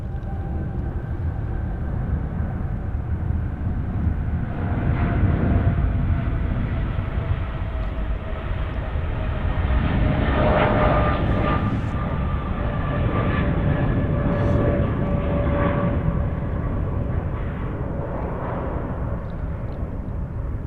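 Cathay 834 airliner bound for Hong Kong taking off at night from Sydney Airport, a sustained rumbling roar with whining tones that swells as it passes and holds steady, heard from a distance with no talk.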